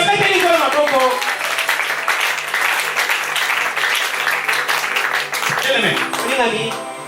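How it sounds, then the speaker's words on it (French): A church congregation applauds loudly in dense, continuous clapping, mixed with voices and shouts and a singing voice near the start and end. "C'est vrai, tu applaudis."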